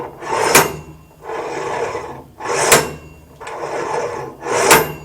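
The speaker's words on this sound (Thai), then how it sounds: "สังเกตลูกปืนครับเราตอกออกไปเรื่อยๆครับ" A bearing being knocked out of the collar of a Kubota rice combine harvester: three loud, sharp strikes about two seconds apart, each followed by a rough, rasping scrape, close and without talk.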